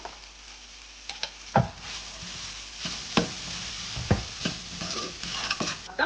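Ginger garlic paste frying in a pan makes a soft background sizzle, broken by several sharp clicks and scrapes of a spoon stirring against the pan.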